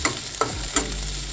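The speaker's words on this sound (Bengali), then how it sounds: "রসুনটা ভেজে নেব।" Garlic fries in a hot pan with a steady close sizzle, and three short scraping knocks come from stirring.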